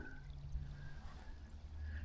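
A small stream trickles softly along a hiking trail on a fine day, a faint continuous gurgle and patter heard from a short distance with no voices.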